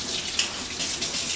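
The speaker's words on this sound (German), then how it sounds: "Die werden wir auch unter dem kalten Wasser einmal kurz" Cling film rinsed under a cold running kitchen tap, heard as a steady close hiss of flowing water with small splashy surges and no speech.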